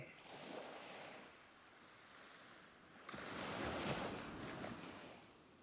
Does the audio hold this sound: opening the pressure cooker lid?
no